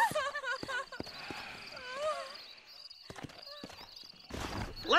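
Horses gallop with rapid hoofbeats and a whinny in the Western video game Red Dead Redemption, heard under spoken dialogue and game sounds.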